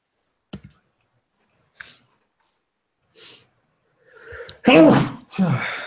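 A person sneezes once, loud and close, after a few faint clicks and a building inhale in a quiet room, followed by a brief breathy exhale.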